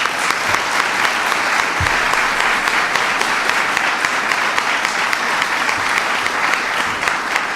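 A crowd at a presidential small business award event gives a big, steady round of applause, loud and continuous, with a couple of low thumps near the start and no one speaking.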